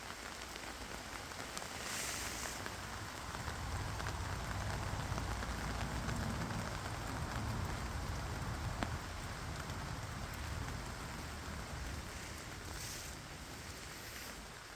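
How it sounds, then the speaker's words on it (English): Heavy rain pours down steadily at night in woodland, a dense continuous hiss of drops striking leaves and a hammock tarp close by, with no voices. "Well, sudden downpour."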